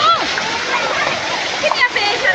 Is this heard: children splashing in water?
yes